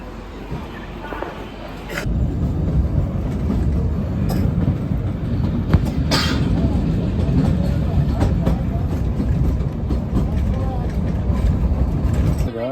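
The Kalka-Shimla heritage toy train rumbles past close by, a loud, continuous low rolling roar that swells after a quieter opening, with people talking over it.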